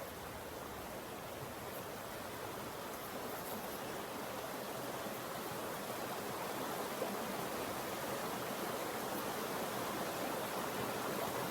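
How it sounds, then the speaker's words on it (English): A babbling creek flows steadily outdoors, a continuous broad rush of water that stays even and moderately loud for the whole stretch, with no speech over it. "the audio with a beautiful babbling brook in the background."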